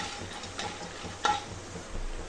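Chana dal and urad dal fry in oil until crisp, making a faint, soft sizzle with a few light scraping stirs and small clicks against the pan, and no talking.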